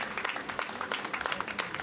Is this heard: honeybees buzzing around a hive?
no